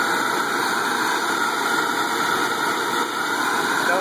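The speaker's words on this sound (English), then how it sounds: "So here, I'll flip it on." A Hoover Wind Tunnel vacuum cleaner runs steadily, giving a constant whirring motor roar with a high, thin whine on top. The level stays even and close throughout, with no pauses.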